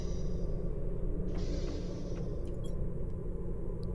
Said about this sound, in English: Might just genuinely be a storm.